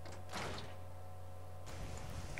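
A door opening in Fallout 4, a short swishing slide followed by a faint mechanical thud, quiet and close, with no talking.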